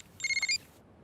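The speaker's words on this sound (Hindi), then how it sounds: "Phone uncle." A telephone gives a short electronic ringtone trill of a few quick pulses, heard briefly and faintly on its own.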